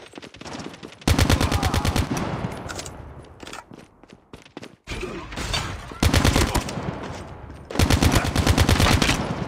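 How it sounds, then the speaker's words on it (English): Sentry gun in Call of Duty Mobile firing in three long, loud bursts of rapid automatic shots, with quieter combat noise and scattered thuds between the bursts. "Friendly sentry gun deployed."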